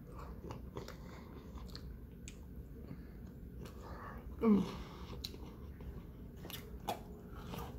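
Someone bites and chews a last mouthful of chicken enchiladas with sour cream, close to the microphone. The chewing is soft and moist, with one louder crunch midway and faint mouth sounds throughout.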